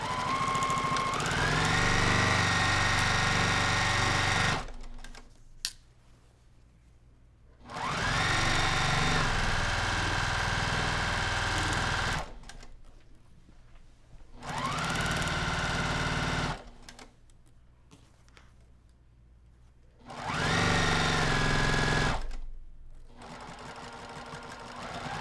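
A sewing machine stitches fabric in four fast bursts separated by short pauses, each run ramping up quickly to a loud, close, rapid mechanical whir before stopping, consistent with backstitching at the start and end of each seam.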